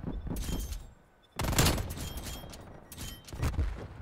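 Gunfire in Call of Duty Black Ops Cold War: a burst of shots, a short pause, then a loud rattling volley and further bursts trailing off.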